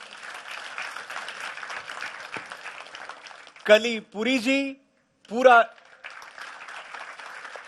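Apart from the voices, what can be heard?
audience applause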